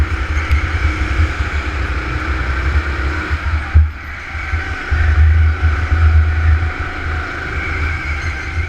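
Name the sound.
go-kart racing on track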